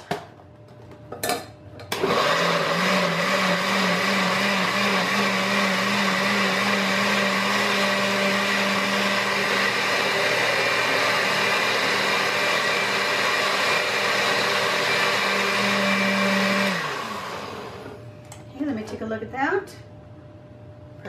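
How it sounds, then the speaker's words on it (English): A blender liquefying raisins whirs loudly and steadily for about fifteen seconds, its motor pitch shifting slightly as it churns, then winds down; brief clatter before and after. "We're gonna put them in the blender and liquefy that."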